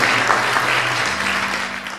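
Church gathering audience clapping, a dense continuous burst of applause at close range lasting throughout, with a faint low hum beneath.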